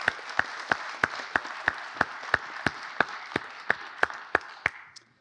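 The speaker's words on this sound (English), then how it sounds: "Let's give a round of applause." Audience applauding in an auditorium, a steady wash of clapping with sharp, evenly spaced louder claps standing out at a brisk rhythm, tapering off at the end.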